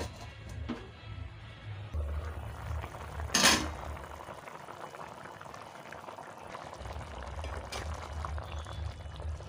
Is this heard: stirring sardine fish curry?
yes